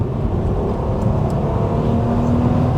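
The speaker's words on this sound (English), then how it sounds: "You cannot beat the sound of that engine." Audi TT Mk1 with a 3.2 V6, warmed up and given a blip of throttle, a steady loud engine drone with a faint rising tone, close by and with no talking.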